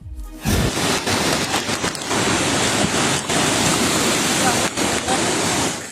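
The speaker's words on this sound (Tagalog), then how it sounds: "Rumaragas ang maputik na tubig kasabay ng malakas na buhos ng ulan." Dense, roaring wash of heavy typhoon rain and rushing muddy water in Cagayan, Philippines, fills the clip continuously, loud and broadband with no pauses.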